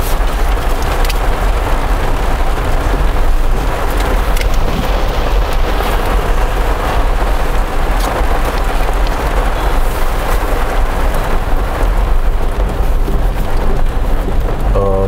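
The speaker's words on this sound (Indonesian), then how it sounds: "karena memang hujannya itu lumayan deras ini teman-teman." Heavy rain heard from inside a car, a dense, loud, continuous drumming on the roof and glass with no break, a wide hiss filling the whole stretch.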